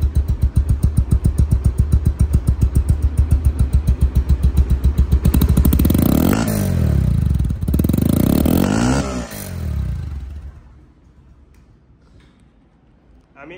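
A Bajaj Pulsar double disc ABS motorcycle, a second-hand bike in new condition, runs with a steady, loud rhythmic engine beat, revs up in two surges midway, then drops back to a quieter idle near the end.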